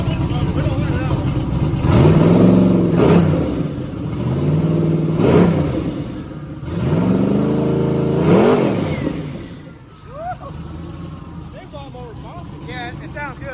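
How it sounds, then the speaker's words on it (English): Turbocharged engine revved repeatedly in bursts, each rise and fall carrying a fluttering wastegate whoosh, followed by quieter idling; people talk over it. "It's the wastegate making that noise going up and down."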